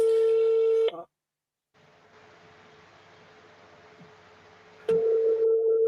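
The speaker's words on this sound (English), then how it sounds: "the phone is ringing" A telephone rings back on an outgoing call during a live show: a steady tone cuts off, a pause with faint room hum follows, then the ring tone returns with a sharp click near the end.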